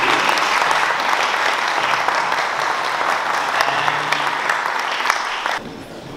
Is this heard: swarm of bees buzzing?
no